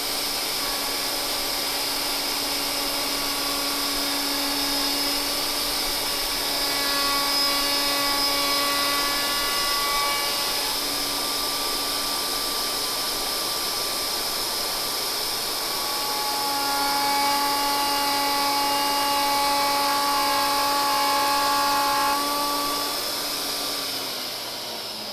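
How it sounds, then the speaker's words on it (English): A router makes a light second pass along an ash workpiece, a loud sustained high-pitched whine that dips and rises in pitch as the cut progresses, holding steady for long stretches before winding down at the end. "even though I ran the router at a lower speed"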